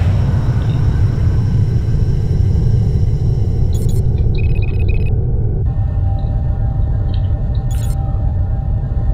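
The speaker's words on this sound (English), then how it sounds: "This Shivan ship sound." A Shivan ship in the space combat game FreeSpace Open gives off a loud, continuous low rumbling drone with faint high tones flickering above it, steady throughout with no speech.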